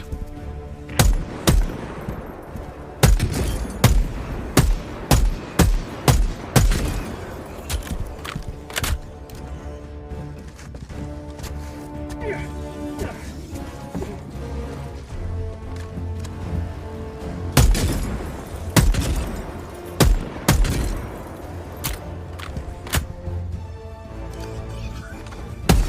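Gunfire and grenade blasts in the video game Helldivers 2: loud, sharp bursts of rapid shots in clusters, with pauses and heavier impacts between them, close and dominant throughout.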